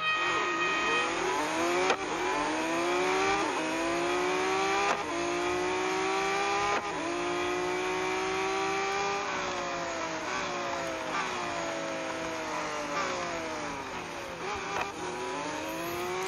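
Lamborghini Aventador SVJ racing a head-to-head lap at the Monza road course in a racing game, its loud engine climbing through the revs with several gear shifts and a steady, close, high-pitched drone throughout.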